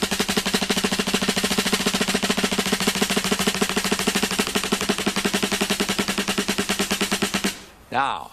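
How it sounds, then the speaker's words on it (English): A closed single stroke roll on a snare drum, alternating sticking played fast and even as a dense, steady buzz for about seven and a half seconds, then cut off, with a brief voice at the end. "what a closed single stroke or alternating stroke roll sounds like"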